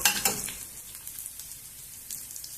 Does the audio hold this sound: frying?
yes